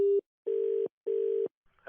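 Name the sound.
telephone tone after call is cut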